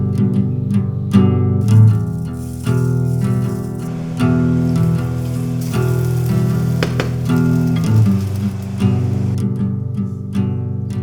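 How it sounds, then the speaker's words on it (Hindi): Rice frying in a pan at home, a steady loud sizzle running without pause for the whole stretch, close up, with a constant low hum underneath and no talk. "राइस को मैं फ्राई कर दूंगा।"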